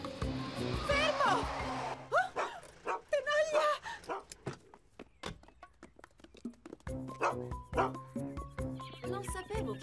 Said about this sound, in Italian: Non sapevo che avessi un cane.